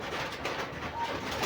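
Pigeons kept in a plywood-walled coop, with steady dense background noise filling the clip and soft cooing within it, no clear distinct calls standing out.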